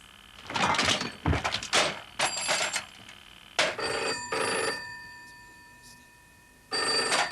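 An old telephone bell in a 1985 British TV drama rings in repeated bursts with short pauses between them, loud and close, ending after a longer silence with a final ring.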